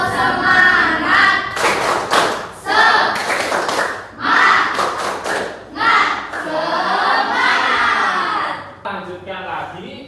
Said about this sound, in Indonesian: Kita tepuk semangat ya bersama-sama.